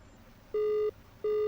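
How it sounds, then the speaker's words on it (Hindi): Two steady electronic telephone call tones from a ringing phone in The Grudge horror video game, each lasting about a third of a second with a short gap between, clear and alone over quiet room tone. "हमें कॉल आ रही है, हम लोग फ़ोन अटेंड करते हैं"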